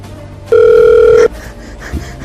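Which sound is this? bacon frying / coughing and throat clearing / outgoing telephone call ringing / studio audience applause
outgoing telephone call ringing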